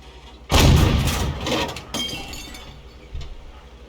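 Tank cannon fire hits a StuG in a video game, heard as a loud close blast with a shattering, glassy crack, then a fainter second impact and a lower thud that trail off.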